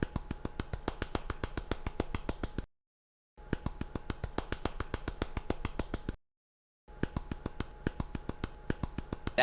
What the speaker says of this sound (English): That is the sound of me jamming my hand against my calf.